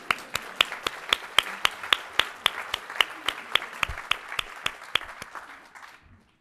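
An audience at a Catholic University ceremony welcoming its new president applauds. Sharp, evenly spaced claps mark a steady rhythm over a continuous wash of clapping for about six seconds, then stop abruptly.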